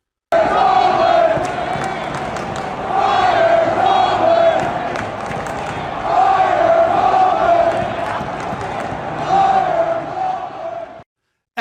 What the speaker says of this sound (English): there was the Mike Tomlin booing